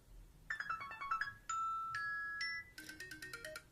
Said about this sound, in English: you can use like the ringtones or the alarm sounds